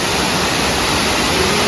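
Hidak Falls, the second of three waterfalls, rushing as a loud, dense, unbroken roar of falling water close by.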